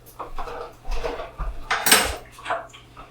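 Metal 24-count muffin pan clattering and clanking as it is pulled out and handled in a home kitchen, several sharp bright knocks and rattles, close and fairly quiet with no talk.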